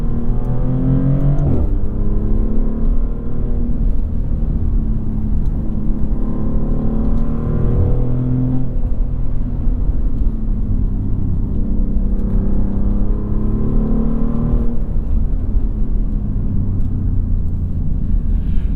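A 2024 Maserati GranTurismo Trofeo drives in Corsa mode, its loud close engine droning and rising through the revs, with rough gear shifts breaking the pitch several times over a constant road rumble.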